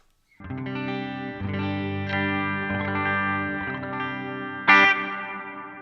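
Sustained electric guitar chords through a stereo ping pong delay on a Line 6 POD Go, ringing with repeating echoes that bounce back and forth, building into a bright strummed accent near the end.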